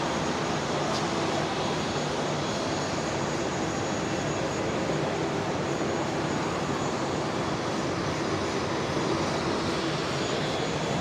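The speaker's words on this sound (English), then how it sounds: "These Saabs, they're so noisy when they're close, aren't they?" Saab turboprop aircraft taxiing at Brisbane airport, a loud, steady broadband roar and whine that stays close and constant throughout, with no distinct speech over it.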